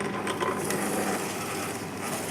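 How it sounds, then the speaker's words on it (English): Celery being pushed through a juicer machine while it squeezes out green juice, giving a continuous close grinding, whirring mechanical noise with faint ratcheting texture throughout, no speech. "you just push it in and it's squeezed out. It's squeezing out the juice from the celery."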